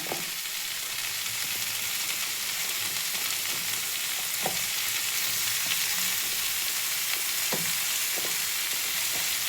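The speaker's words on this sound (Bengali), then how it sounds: "এবার বেগুনটা দিয়ে দেবো।" Eggplant and broad beans fry in a pan for a banana stem dish, a steady close sizzle running throughout with a few soft clinks of stirring.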